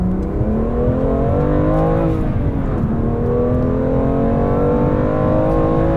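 A 600-horsepower 2020 BMW M2 Competition pulling hard in second gear, a loud sustained engine howl with climbing harmonics and a brief pitch dip near the middle, heard from inside the car with no talking.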